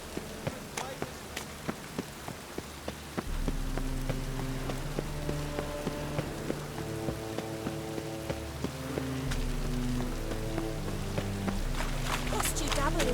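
Rain falls in The Witcher 3 video game, a steady patter on surfaces heard under sustained musical tones, with sharp drip-like ticks scattered throughout.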